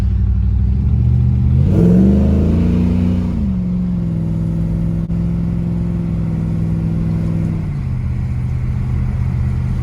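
An LS-swapped BMW E90 330i with no power steering drives down a road, its V8 engine loud and close, revving up in pitch before settling into a steady cruising drone.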